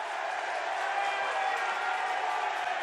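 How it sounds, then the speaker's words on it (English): Rugby league crowd at a Widnes match roaring and shouting together for a knock-on, a dense, steady wash of massed voices at a distance with no single call standing out. "The crowd shouted for it."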